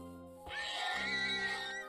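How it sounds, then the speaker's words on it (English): A single video game horse whinny rises and trembles for over a second, clear and fairly close, with a faint steady hum underneath. "Ooh, horses."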